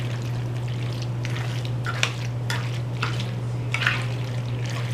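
Baked mac and cheese with melted Velveeta being stirred in a pan, giving soft, wet squelching scrapes at irregular intervals over a steady low hum, fairly close, with no talk.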